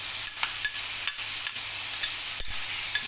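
Garlic and crushed ginger sizzle steadily in a frying pan for mutton shinwari, with regular spoon clicks and stirring scrapes over the continuous hiss, up close with no talking.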